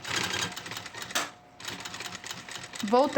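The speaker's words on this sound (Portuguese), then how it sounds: "Vou sobrepor a costura que já existe, não precisa nem dar retrocesso" A sewing machine stitches over an existing seam on synthetic material for a school pencil case, running in rapid mechanical bursts with a brief pause, and someone talks over it near the end.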